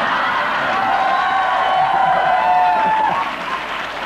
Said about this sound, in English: I think something's wrong with your audience when that gets the biggest cheer